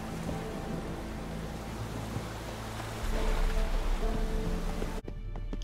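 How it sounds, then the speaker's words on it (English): Rain falling in The Witcher 3, a steady hiss of drops pattering on surfaces at moderate volume, growing heavier partway through before cutting off abruptly near the end. "Looks like rain."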